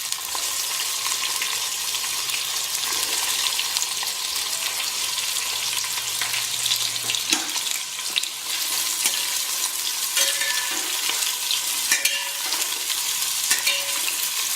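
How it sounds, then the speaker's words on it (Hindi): Onions added to a mutton masala, frying and being stirred for Rajasthani mutton bhuna, a dense continuous sizzle with occasional spoon scrapes against the pan, close and steady, no speech. "हमारा मसाला जल न जाए इसके लिए हम इसमें प्याज भी डाल देते हैं।"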